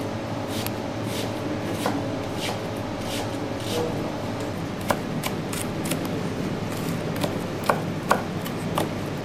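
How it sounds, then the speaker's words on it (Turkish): Onions are chopped with a knife for a Malatya eggplant tava, sharp irregular knife taps on a board over a steady background hum, close and moderately loud, with no talking. "Soğanımızı doğruyoruz."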